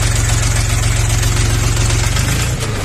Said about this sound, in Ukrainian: хочу нагадати про таку модель такого трактора, знаного поканого лобола. Ось так він звучить. Він холодненький.